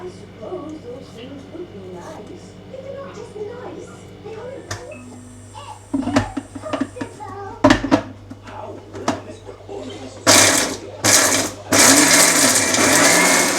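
Kitchen mixer grinder crushing masala with garlic and ginger at home, loud harsh whirring bursts starting and stopping near the end, after clatter, handling noises and talking.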